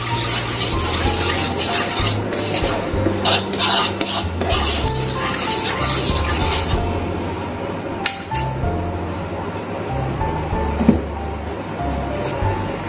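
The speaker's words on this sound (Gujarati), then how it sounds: "એકદમ સરસ મિક્સ કરી લેવાનું." A spoon stirs sugar, water and a pinch of asafoetida in a pan, making repeated close scraping and swishing strokes with occasional light clinks against the metal, then a couple of sharper knocks near the end.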